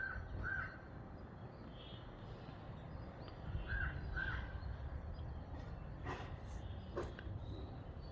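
A crow caws a few times at a distance, short harsh calls scattered over a low rumbling background.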